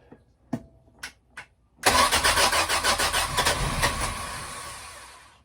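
A Sea Ray boat engine, freshly serviced after winter with its carburetor float bowl filled, gives a few short cranks, pauses, then fires and settles into a loud, close, rhythmic running rumble.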